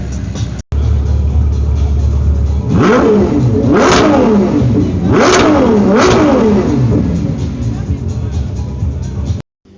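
Ferrari 812 Competizione V12 sports car engine revving hard in three loud, close blips that rise and fall, with a steady idle rumble between them and between bursts.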